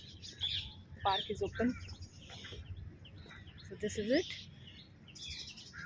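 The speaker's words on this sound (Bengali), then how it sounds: "শোনা যাচ্ছে পাখির কিচিরমিচির" Birds chirp and tweet from trees in a park in Bharuch, with several short, bright calls scattered over the soft background while someone speaks.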